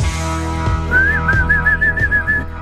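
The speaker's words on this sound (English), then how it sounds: "We just whistling all before the show because we got a great day here." A person whistles a short, wavering tune of sliding notes before a talk show, clear and close over a steady low background hum.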